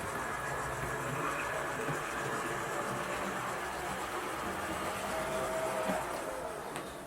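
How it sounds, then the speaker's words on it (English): A model Class 121 train rolls on a tight first-radius curve of model track, giving a faint, steady mechanical whir and rumble of wheels and motor with no voices. "the tone of the wheels on the track didn't change at all"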